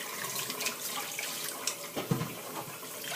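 Tap water runs steadily over a juicer part as vegetable fiber residue is rinsed off, a soft continuous splash with a couple of brief clunks near the end.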